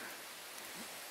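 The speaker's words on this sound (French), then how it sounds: "Ça fait des jours qu'on entend la pluie, donc je vais pas me plaindre." Rain falls in a faint, steady hiss of fine, even noise with no distinct drops, continuous throughout, heard outdoors during fence-building work.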